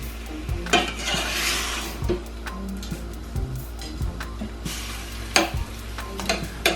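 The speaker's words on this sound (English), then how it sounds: "Stir this up. Let this get brown." Chicken browning in a pan while being stirred: a steady frying hiss under a low hum, punctuated by spaced clacks and scrapes of a utensil against the pan, close by with no voices.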